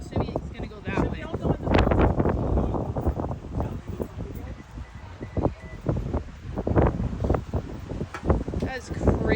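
Strong gusting wind from a tornado ahead of Hurricane Milton buffets the microphone in rough bursts throughout, with people talking over it.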